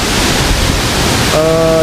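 Loud, steady rushing roar of a waterfall near caves, with water churning constantly; a voice begins speaking over it near the end.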